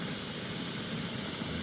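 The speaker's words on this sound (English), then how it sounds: "So we've got jet boil on there." A Jetboil camping stove burns beside a river while boiling river water, giving a steady, low broadband roar that stays constant and fairly faint throughout, with no talking.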